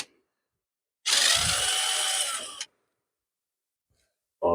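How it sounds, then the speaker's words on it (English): A power tool whirs in one loud burst of about a second and a half while removing exhaust manifold bolts on a Ford Falcon with a Barra engine, set between stretches of near silence and followed by a brief new onset. "Taking off the rest of the manifold bolts."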